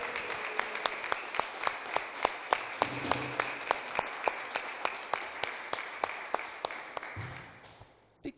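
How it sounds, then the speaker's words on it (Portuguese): A church congregation claps in a fast, steady rhythm, sharp regular hand claps ringing out together for several seconds before fading at the end, with a low voice briefly underneath. "Aplauda o Senhor mais forte"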